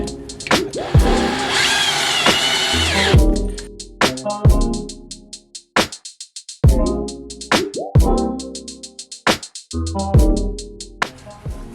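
Power drill driving screws into a boat floor during a rotten-floor replacement, with a long continuous whir followed by a series of short bursts and stops, close and loud.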